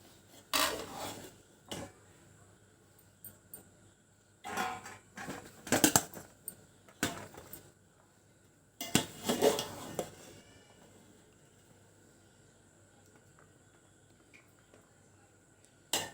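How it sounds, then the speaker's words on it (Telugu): A serving spoon scrapes biryani out of a cooking pot in short, irregular bursts of rasping and rubbing, separated by quiet pauses, close by and moderately loud. "ఇప్పుడు మనం బిర్యానీని సర్వ్ చేసుకుందాం."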